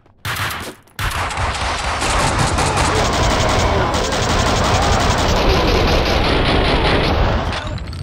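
Sustained rapid gunfire from a Max Payne 2 shootout, loud and dense, a brief burst at the start, then nearly unbroken automatic fire for several seconds with booming low impacts.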